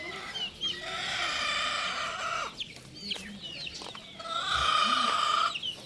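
Hens and chicks cluck and squawk close by in a busy, overlapping chatter, with softer peeping and calls mixed in, continuing without pause.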